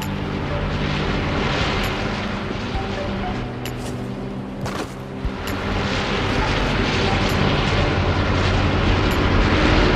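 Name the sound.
airplane sounds in the Fortnite video game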